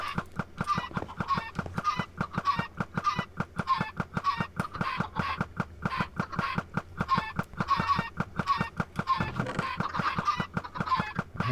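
Many chickens in a video game cluck rapidly and steadily in a dense, continuous rhythmic stream, with no talking.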